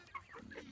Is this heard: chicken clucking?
yes